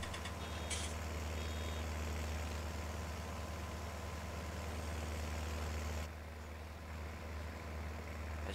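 Deutz tractor engine in Farming Simulator 19 running at a steady drone, with a strong low hum throughout and a brief high beep early on, the tone dropping slightly near the end; no talk.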